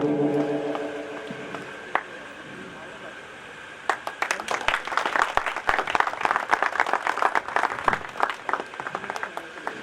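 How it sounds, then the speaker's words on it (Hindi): An audience at a driver selection event claps loudly and energetically. The applause swells after a quieter stretch with a voice at the start and continues as a dense, crackling round to the end. "तालियों की गड़गड़ाहट जोर से बजाते रहे"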